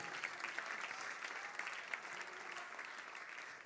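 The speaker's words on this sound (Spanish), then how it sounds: "denle palmas de alabar" Steady congregational hand-clapping during a church worship service, dense and continuous for several seconds at moderate distance, with no voices standing out.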